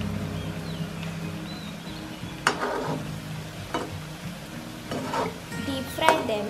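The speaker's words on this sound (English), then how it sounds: "Make small balls of that mixture and deep fry them." Jackfruit paste balls deep frying in hot oil in a pan, with a soft ongoing sizzle and several sharper clatters and stirring sounds of a utensil against the pan, heard fairly close with faint background voices.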